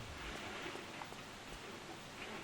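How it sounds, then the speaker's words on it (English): Steady rain falls outside in brutal weather, a faint, constant hiss of drops with no distinct events, heard quietly in the background. "You may even be able to hear the rain."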